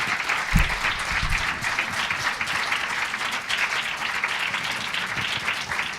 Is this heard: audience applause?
yes